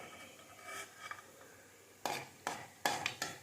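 Raisins and cashews fry in a pan, with a few sharp spoon clinks and scrapes over a faint, soft sizzle.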